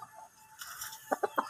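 Backyard chickens kept as a hobby cluck nearby: a few soft calls, then four short rhythmic clucks in quick succession at the end, fairly quiet, with no talking.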